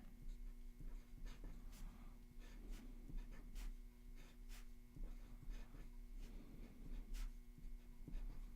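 Pen writing out a truth table by hand on paper, quiet scratchy strokes in short irregular bursts over a steady low hum.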